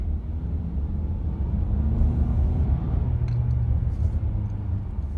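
A 2017 Honda Accord Sport idling in first gear, heard as a steady low engine rumble and muted cabin drone, fairly even and subdued throughout with no talking.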